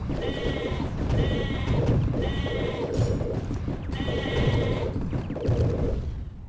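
Angry sheep from the Overdungeon video game bleat loudly in repeated bursts, about four strained, quavering cries spaced across a steady backdrop of game music and effects.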